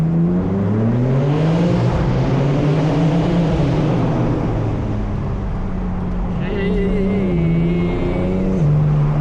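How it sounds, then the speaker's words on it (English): A BMW M4 Competition exhaust drones loudly through a tunnel as it revs, rising and falling in pitch with a whining shift near the end; no distinct backfire pops stand out. "A little backfire"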